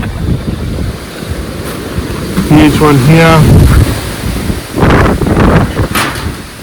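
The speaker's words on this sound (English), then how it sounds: "This is like very, very windy." Strong gusting wind blows outdoors around a vegetable patch and fruit trees where large branches have fallen, roaring into the microphone in surges, while someone speaks briefly over it.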